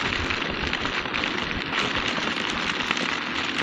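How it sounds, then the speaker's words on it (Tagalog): Heavy rain pounding down during a delivery drive, a dense continuous roar of drops hammering on a surface, loud and close with no gaps or voices. "napakalakas ng ulan"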